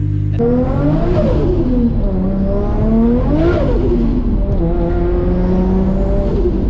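A built R33 with an RB25DET turbo engine drives and boosts. Its engine note rises and falls through repeated revving pulls, with turbo whine and flutter, loud and close throughout.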